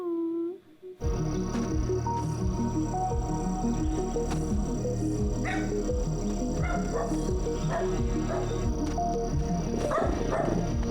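A zombie puppy in the animated series Castlevania barks and yips repeatedly, sitting in a dense, loud mix of music and effects that runs almost the whole time.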